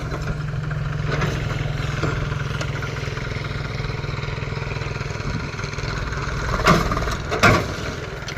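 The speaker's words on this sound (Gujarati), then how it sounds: "હાલો જો પાછું ટ્રેક્ટર આવી ગયું હે" Eicher tractor engine running on a village farm while manure is spread, a steady low throbbing idle close by with a couple of brief knocks and rattles near the end.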